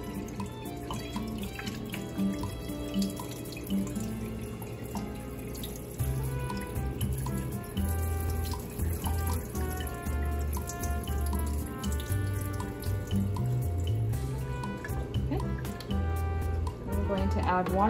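Water runs steadily from a tap into a container of soaking acorn flour, a continuous splashing stream with a ringing, resonant tone throughout.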